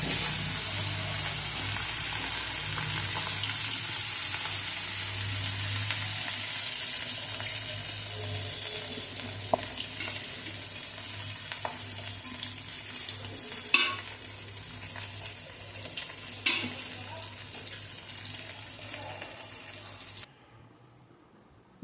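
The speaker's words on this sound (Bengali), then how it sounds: "ভাত ভাজা হয়ে গেল, এখন ভাজবো মাছ।" Spiced fish, rubbed with salt, turmeric, chili, cumin powder and oil, sizzles steadily in a frying pan, with occasional louder pops and crackles, before falling abruptly silent at the end.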